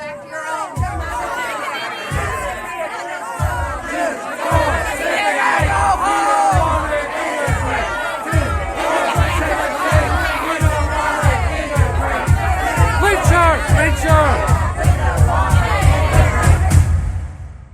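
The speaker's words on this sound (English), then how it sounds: "people were screaming behind me what I would have described as a crowd before. To my ears, sounded like a mob" An angry mob in archival Little Rock recording screams and shouts in a rhythmic, chant-like surge, with regular heavy pulses under a mass of overlapping voices that grows louder and denser toward the end.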